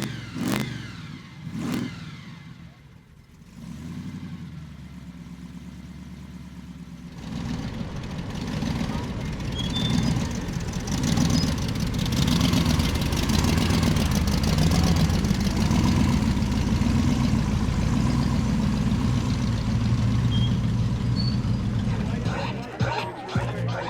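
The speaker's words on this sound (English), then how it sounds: "So the whine and the lope and everything makes it sound pretty impressive when she's going down the" Supercharged car engine with a high-lift cam idles with a choppy lope, then revs and holds a loud, steady drone with blower whine on top as it drives off, close by with crowd chatter in the background.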